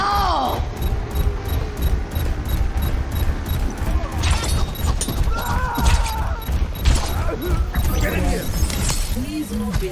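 Chaotic Overwatch team fight with Orisa: dense bursts of gunfire, crashes and explosive impacts pile up continuously, loud and close, with voices and game callouts mixed in throughout.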